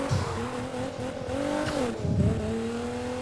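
A tuned Nissan GT-R with a Bensopra body kit in Need for Speed Heat: the engine drones steadily with pitch sweeping up and down, and bursts of tyre scrub come through around the middle and the end.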